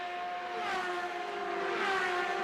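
CART race car engines at Road America's 1996 race scream as they rev toward 14,000 RPM, a high, steady whine rising and falling slightly, heard from a distance with echo off the surrounding trees.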